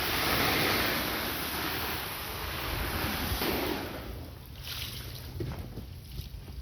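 An Intex Pure Spa inflatable hot tub fills with water: a steady, loud broadband rush of running water that eases slightly partway through, with no talking.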